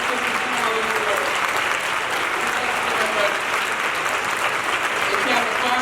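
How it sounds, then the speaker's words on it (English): Sustained audience applause fills a gala hall, steady and dense from start to end, with faint voices mixed into the clapping. "Y'all give me a round of applause, please."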